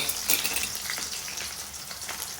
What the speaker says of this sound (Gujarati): ડુંગળી આવી ગઈ છે, થોડી ફ્રાય થવા દઈએ